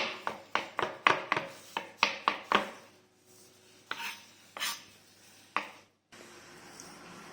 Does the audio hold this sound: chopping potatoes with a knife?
yes